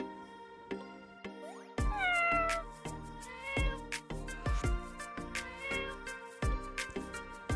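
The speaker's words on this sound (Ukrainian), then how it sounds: "кішка Мурка це дика тварина або ж свійська?" A cat meows repeatedly, several drawn-out, insistent cries in close succession, loud and near with short pauses between them.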